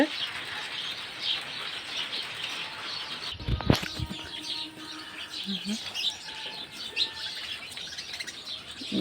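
House sparrows chirp and twitter steadily in a jackfruit tree in the background, a faint busy chorus with a brief flutter or rustle partway through.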